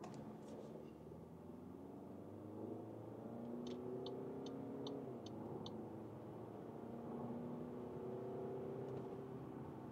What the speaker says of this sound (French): Voilà, accélération de 40 à 120 km/h.